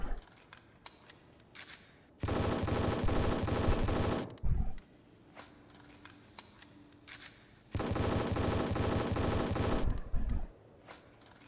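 Automatic gunfire in the mobile multiplayer shooter REC.O.R.D comes as two long, loud rattling bursts, with scattered single shots and quieter game sounds in between.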